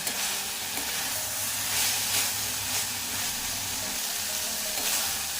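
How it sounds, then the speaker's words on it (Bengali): Bitter gourd with green chilli frying in a pan, a continuous close hiss and sizzle as the moisture cooks off, with faint stirring scrapes and no speech. "এবার আমি এক মিনিট ধরে একটু ভাজা ভাজা করে নেব জলটা শুকনো করে নেব"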